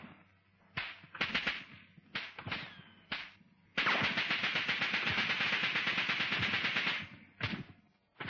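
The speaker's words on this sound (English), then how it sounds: "The enemy, will note, was still firing at any movement in the area" Enemy machine-gun fire during a platoon attack, short sharp bursts followed by one long sustained burst of rapid rattling shots lasting several seconds, then a few more brief bursts, fairly loud and near.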